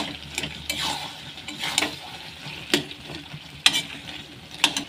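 Fried fish head and fried lentil nuggets are stirred through cooked greens in a pan: a constant sizzle under repeated scraping strokes of a spatula, loud and close.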